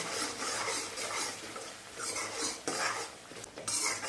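Brinjal curry masala with turmeric being sautéed, a spatula scraping and clattering continuously against a metal pan with a grainy, sizzling texture underneath.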